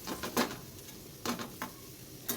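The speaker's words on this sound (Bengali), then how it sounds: "এইদিকে চিংড়ি মাছটা ভাজা হচ্ছে" Prawns frying in a pan, with a soft sizzle broken by a few sharp spatters and scrapes of stirring at irregular moments.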